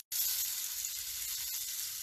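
Shrimp sizzling in a hot pan, a bright crackling hiss that starts abruptly and holds steady at close range.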